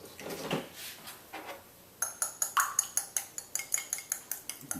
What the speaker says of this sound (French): Ici, on va mélanger l'huile et l'œuf ensemble.